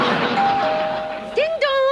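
Two-tone ding-dong of a house doorbell in a French family sitcom, ringing close and clear near the end after a stretch of talk-like sound.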